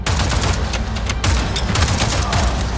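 A thrown grenade's blast and rapid gunfire during a base assault in Avatar: Frontiers of Pandora, loud and continuous, with a booming low rumble under quick bursts of shots and no talk.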